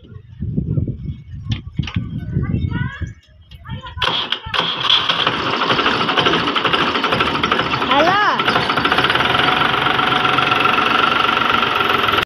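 Tractor engine running as it is parked on a farm, a loud close rumbling idle with knocking vibration that takes over after a few seconds of someone talking.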